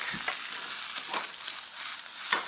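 Pork, ginger, chilies and garlic are stir-fried in a wok, giving a steady hissing sizzle broken by several quick tossing scrapes, close up with no talk.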